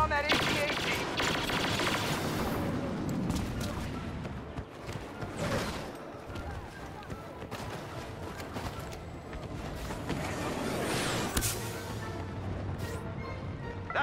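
Blaster gunfire in a Star Wars video game battle against an AT-AT walker on Sullust, dense continuous volleys of laser shots with crashes and explosions, loud and layered, with voices calling out over the combat.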